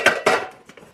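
A chrome Fire Maple metal kettle clatters against Trangia camping cookware in two sharp, close metallic knocks, then a few lighter taps as it settles.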